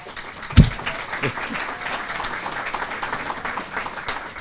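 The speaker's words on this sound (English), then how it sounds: "That's an applause that I didn't get last year." Audience at a sports hall of fame induction ceremony applauding, a sharp close clap at the start followed by steady, moderately loud applause from the room.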